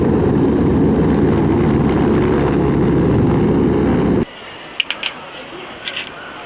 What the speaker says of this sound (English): Wow, this is army helicopter, guys. Wow, this is a small size helicopter,